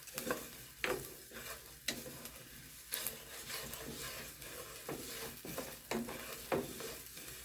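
Rice browning in olive oil in a pan for Spanish rice, a soft continuous sizzle broken by regular scraping stirs of a spoon against the pan, close and fairly quiet, with no talking.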